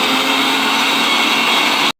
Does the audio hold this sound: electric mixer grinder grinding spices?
yes